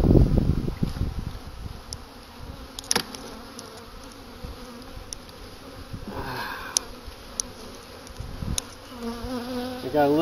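Honey bees buzz in a hive during a late-winter apiary check, a steady close drone with individual bees zipping past and some faint handling sounds.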